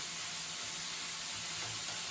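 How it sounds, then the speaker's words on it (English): Water poured into rice in a pan during outdoor camp cooking, a steady hissing, sizzling wash that holds even and moderately quiet for about two seconds with no talking. "All right, can add a little bit more water."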